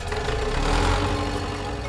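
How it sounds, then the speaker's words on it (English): A big tractor with large wheels runs its engine in a steady, deep, close rumble, idling evenly with a slight knocking pulse and no talking. "and really big tractors with large wheels"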